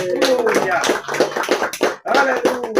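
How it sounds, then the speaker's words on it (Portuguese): Hands clap in a home church service, bursts of applause mixed with a voice speaking loudly over them, fairly close and uneven in rhythm. "Vamos aplaudir o Senhor."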